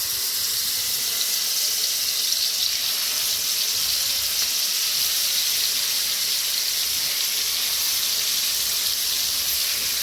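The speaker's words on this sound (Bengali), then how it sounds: "এখন ভেজে নিব।" Fish rubbed with turmeric and chili sizzles in hot oil, a steady, loud, unbroken hiss that holds evenly throughout with no voices.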